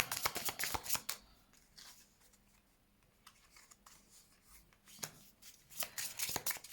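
Tarot cards are shuffled by hand in quick riffling bursts at the start, middle and end, with softer handling sounds between, close and quiet, no talking.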